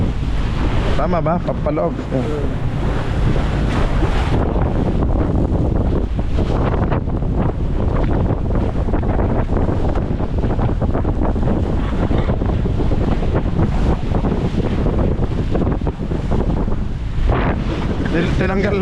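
Strong wind roars into the microphone at sea on a boat crossing from Bohol to Cebu, a loud, constant buffeting over surging water, with brief talking partway through.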